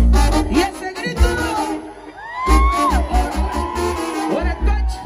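A crowd at a live regional Mexican concert in Santa María, California shouts, whoops and cheers loudly over booming music, with yells rising and falling throughout.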